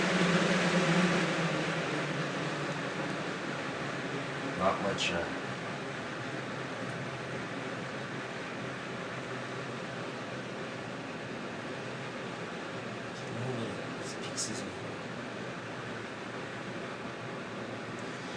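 A vintage 1980–81 Galaxy 12-inch box fan runs on its low setting, a steady, even broadband whoosh held at a moderate level throughout, with a brief voice murmur near the start.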